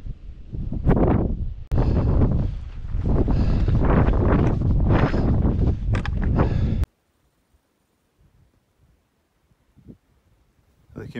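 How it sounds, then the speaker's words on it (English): Strong wind on a mountainside, Gulvain, roars and buffets the microphone in heavy gusts for several seconds, then cuts to near silence with a faint thump. "It's very, very windy."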